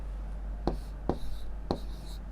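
Pen or pencil writing on paper in a classroom lesson, three short scratchy strokes spaced about half a second apart, close and fairly quiet over a low steady hum.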